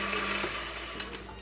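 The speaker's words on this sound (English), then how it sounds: "just mix this until it's creamed together in a nice fluffy mixture" Cookie dough being creamed with golden syrup churns under a steady, faint mechanical whir, with a low hum and a few soft knocks over its brief span.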